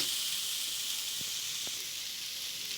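Kolai greens frying in a pan, giving a steady hiss and sizzle that stays fairly loud throughout, with a couple of faint clicks from stirring.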